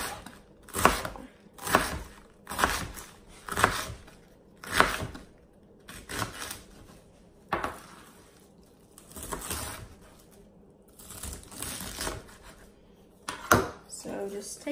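A knife chops cabbage into small pieces, with crisp close-up strikes landing in short irregular bursts and pauses between them.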